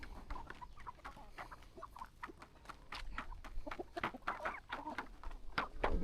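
Country chickens, hens and roosters, clucking steadily on a poultry farm, several birds at once with overlapping short calls, moderately close against a noisy outdoor background.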